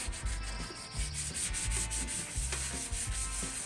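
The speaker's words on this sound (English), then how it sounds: "Always, when I worked with Monroe, I always hated water sanding. It wears you out. You got to do it by hand" Steady back-and-forth rubbing strokes of wet sanding by hand on a vintage metal chair, a continuous gritty scrubbing with a rhythmic pulse and no voices.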